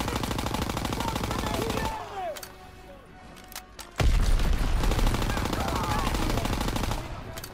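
Heavy, close gunfire in the Call of Duty WWII game, long rattling bursts with a short lull in the middle before the firing resumes loudly.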